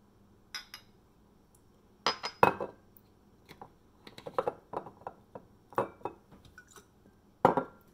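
Small metal measuring spoons clinking and clattering in a kitchen while smashed cucumbers are prepared, a scattered series of sharp, close clicks and chinks separated by short quiet gaps.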